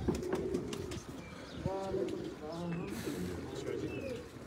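Pigeons coo in soft, throaty phrases near at hand while someone talks over them, with scattered rustling and light ambient noise around the birds.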